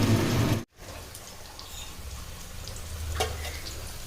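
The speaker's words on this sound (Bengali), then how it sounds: "এখানে হলো বিরিয়ানির আলু ভাজা চলছে" Potatoes frying in hot oil for chicken biryani give a steady, moderate sizzle after a brief cut near the start, with a faint clink partway through and no talking.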